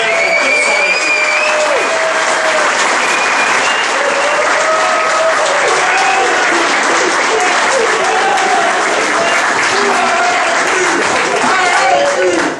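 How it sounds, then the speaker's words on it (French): A crowd at a political launch event in Laval, Quebec gives loud, sustained applause for Michel, dense continuous clapping with cheers and voices running through it. "allez-y donc une bonne main d'applaudissement pour Michel"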